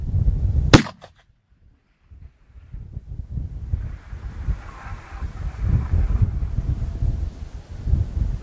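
A single 7mm Remington Magnum rifle shot fired at a long-range target in heavy wind: one sharp, loud crack followed by a brief echo, then silence and steady wind rumble.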